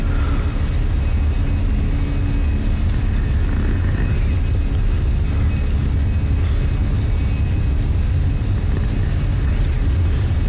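Jet engines of a Fenix A320 airliner spooling up on the runway in Microsoft Flight Simulator, a steady, loud roar with a low rumble and faint whine that holds constant throughout, with no talk.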